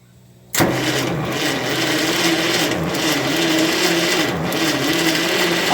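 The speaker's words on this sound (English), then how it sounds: "So I'm going to flip the ignition on and we'll turn it over a bit and see if we see any sparkies." A Fordson E27N tractor engine cranks over steadily with the ignition on after a sudden start, a continuous loud churning that does not catch and run, with no talking.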